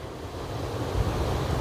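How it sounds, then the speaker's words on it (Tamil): Water from the Meghamalai waterfalls pours into a dam, a broad, steady rushing roar, fairly loud and unbroken, with no voices. "இந்த மாதிரி தான் இந்த டேமுக்குள்ளே வந்து தண்ணி வந்து இறங்கிட்டு இருக்கு"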